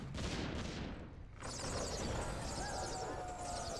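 Mortar teams firing in a Warcraft III match, heard as dense, continuous bursts of distant explosive fire and battle noise that roll on steadily without a break.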